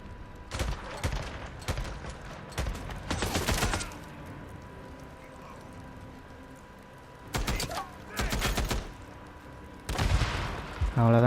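Bursts of machine gun fire in the video game Days Gone, several rapid volleys separated by quiet gaps, loud and close, with occasional faint game sounds between them.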